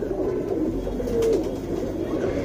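A pigeon coos softly and steadily nearby, a low throaty call repeating over a faint background hum.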